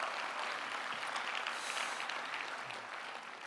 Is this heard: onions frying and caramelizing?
no